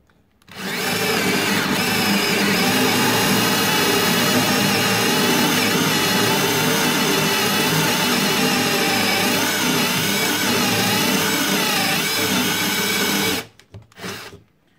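A Bosch GSR 12V-15 FC cordless drill drills for hinges in one long continuous burst, a loud, close high-pitched motor whine that runs steadily for about thirteen seconds before stopping abruptly with a brief stutter.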